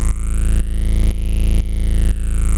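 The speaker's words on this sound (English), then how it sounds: "that's the sound of that particular sound called breathless pumping" A sustained synthesizer tone from a held keyboard key pulses in a steady rhythmic pump, swelling and dipping about every half second, loud and alone.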